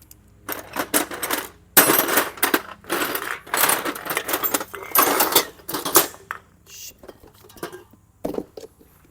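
Metal bolts clink and rattle into a tray in a shed, coming in several bursts of jangling metallic clatter with pauses between, close and fairly loud, while people talk in between.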